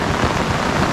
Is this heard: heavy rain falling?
yes